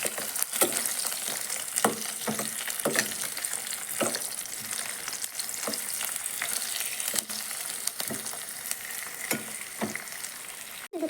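Onions sauté in a pan for a vegetable dish, a steady close sizzle punctuated by regular sharp scrapes and taps of a stirring spoon against the pan.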